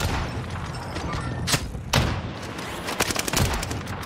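KAR98 sniper rifle shots in Call of Duty on Fortune's Keep, a couple of sharp reports rising out of a busy gunfight, with scattered distant gunfire around them.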